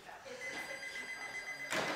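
A telephone rings faintly in a cluttered bargain barn shop during a live auction stream, a thin steady electronic tone sounding beneath a room full of background noise.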